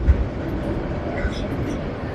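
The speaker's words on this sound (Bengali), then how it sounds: "এই যে দেখছেন রানিং অবস্থায় ট্রেনটা আসতেছে।" A running train pulls into a station. It makes a loud, steady low rumble throughout, with a heavy thump at the start and faint squeals higher up, and muffled voices sit underneath.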